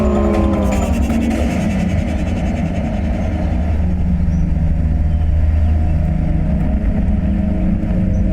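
A car engine idles and rumbles steadily at close range, a low continuous drone as the vehicle pulls away, with no voices.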